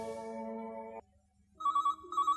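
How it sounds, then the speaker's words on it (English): A telephone rings in a dramatised story scene, first a chord-like tone that cuts off, then after a short pause a warbling electronic ring repeating in quick pulses, clear and close with no talk. "Just then, the telephone rang."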